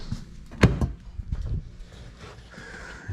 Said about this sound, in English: always hit the fuel door release.